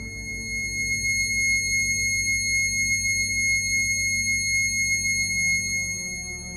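A steady, pure electronic sine tone at 2160 Hz, a high C sharp, hums continuously, unwavering and clean, with a faint low pulsing underneath.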